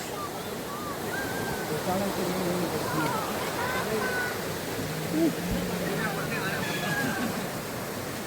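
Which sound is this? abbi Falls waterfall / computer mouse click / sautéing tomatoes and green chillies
abbi Falls waterfall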